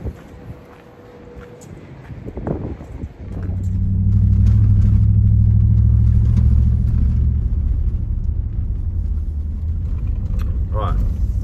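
A four-wheel-drive vehicle on an off-road track in the Grampians gives a steady, loud engine and road rumble with wind buffeting, while a person talks over it.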